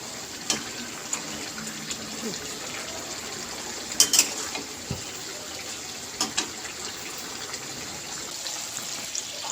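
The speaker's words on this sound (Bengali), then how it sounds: "এখন আমি এর ভিতরে আবার পানি দিয়ে দিব আর পরিমাণ মতো পানি দিয়ে তরকিটা জাল করব" Water pours from a vessel into a pot of fish curry, a continuous splashing gush with a few sharper clinks of the vessel, heard close and moderately loud with no talking.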